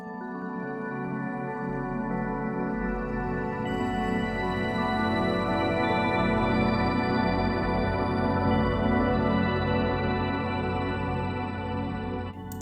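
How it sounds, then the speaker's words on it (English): Sustained synthesized chime pad made in the Pigments synthesizer, bell-like tones layered over a warm drone, evolving steadily and softly with no voices. "how to create a chime pad inside of Pigments"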